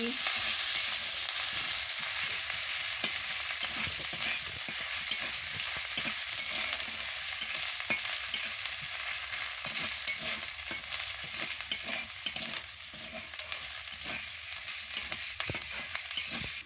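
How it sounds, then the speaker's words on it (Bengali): A spice paste with ginger paste fries in a pan with a constant close sizzle and sputter, broken by scattered stirring scrapes throughout, with no talking. "আদা বাটা দিয়ে ভালো করে মশলাটাকে কষাচ্ছি।"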